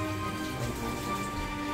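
Rain falls steadily, making an even, continuous hiss that stays at one level throughout, with faint tonal sounds underneath and no voices.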